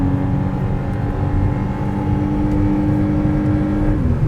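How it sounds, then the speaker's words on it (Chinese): A McLaren Artura with a V6 plug-in hybrid engine producing 680 PS hums in a steady, low, close drone with a faint tonal whir that shifts slightly near the end, and no talking. "觉得 V6 的声音会不会很小声？"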